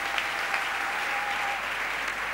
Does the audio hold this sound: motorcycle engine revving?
no